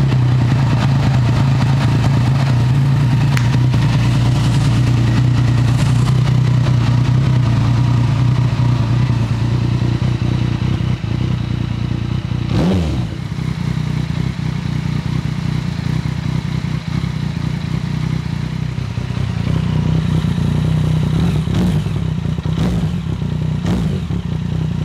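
Yamaha MT-09 motorcycle idling close by for a long stretch, a steady low throbbing engine with a brief blip partway through and no talking.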